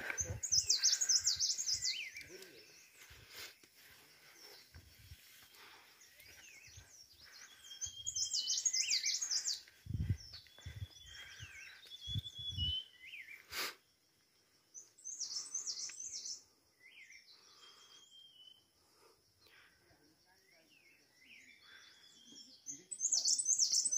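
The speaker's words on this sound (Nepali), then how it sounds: "विभिन्न किसिमका चराचुरुङ्गीहरूको आवाजहरू" Various birds chirp and call on a hillside, bright repeated tweets and trills in bursts, with scattered thumps and rustling handling noise in between.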